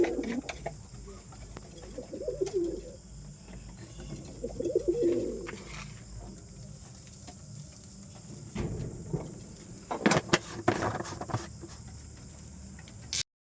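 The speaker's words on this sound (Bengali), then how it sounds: "কাজের থেকে বাড়ি ফিরে পায়রাদের জল এবং খাবার দেওয়া কমপ্লিট।" Pet pigeons coo in soft low bursts while eating and drinking, with a steady high insect-like whine in the background and a flurry of sharp pecking taps and rustles near the end.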